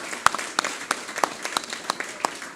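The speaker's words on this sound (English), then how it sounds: "Please give him a round of applause" Sparse, scattered hand claps at a political party branch meeting, a few distinct sharp claps spaced irregularly over a soft background murmur, moderately quiet and not a full ovation.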